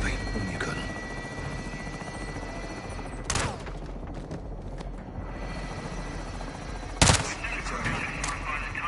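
A helicopter's steady rotor drone runs throughout in the video game Call of Duty: Modern Warfare 2, with two sharp bursts of gunfire cutting through and voices speaking over it.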